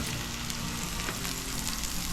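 Green peppers sizzle steadily in olive oil on a hot griddle, a continuous crackling fry with no talk over it.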